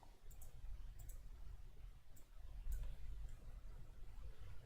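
Computer mouse clicks in a quiet room, several sharp faint clicks spaced irregularly, some in quick pairs, over a low steady hum.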